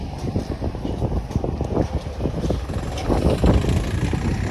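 Strong gusty windstorm buffets the microphone in a continuous roar, with rumbling low gusts rising and falling throughout and no voices.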